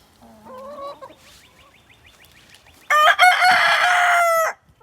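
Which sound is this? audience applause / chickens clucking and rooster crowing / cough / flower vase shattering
chickens clucking and rooster crowing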